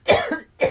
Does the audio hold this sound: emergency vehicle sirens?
no